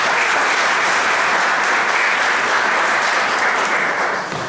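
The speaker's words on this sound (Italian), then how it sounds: "un applauso a Luigi Peruzziello" Audience applause at a book or calendar presentation in Irpinia, dense continuous clapping from a sizeable crowd, loud and close, tapering slightly at the end.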